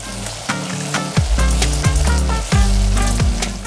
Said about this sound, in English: add in the minced garlic and sauté a few minutes more